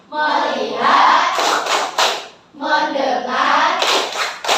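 A classroom of children doing a rhythmic focus clap, two loud bursts of patterned hand clapping mixed with chanting voices, close and energetic.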